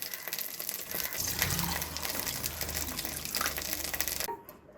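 Hot water pours steadily for several seconds over a large lemon, a close gushing, splashing stream that stops abruptly near the end.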